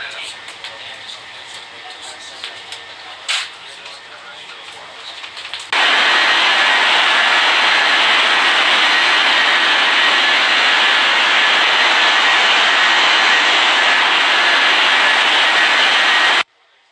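Jet airliner roar swelling suddenly and holding as a loud, steady broadband rush as it comes in to land in an air traffic control simulation game, preceded by quieter radio-style chatter and ending abruptly.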